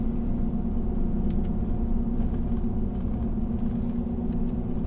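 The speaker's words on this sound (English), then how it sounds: "This car is like all up on me here." A car drives close behind on a road beside a pedestrian trail, a steady, loud, low rumble of engine and tires that holds evenly throughout with no voices.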